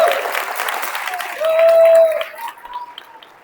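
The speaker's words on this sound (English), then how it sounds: "But let's give Nancy a big round of applause." A crowd at a high school open house claps in a steady burst of applause, loud at first and then thinning out into scattered claps near the end.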